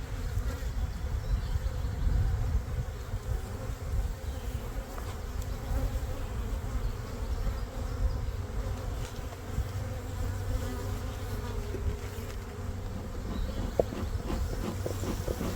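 Agitated honeybees hum in a dense, continuous drone around a nuc hive on a sunny, slightly breezy spring day, steady and fairly close with no voices.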